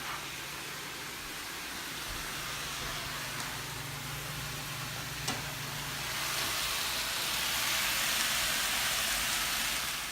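Tomato cooked with liquid aminos sizzles softly in a pan, a faint steady hiss that swells slightly toward the end.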